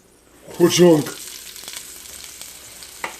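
Onions dropped into hot oil, a sudden loud burst of sizzling that settles into a steady quieter fry with a few crackles and a light clink near the end.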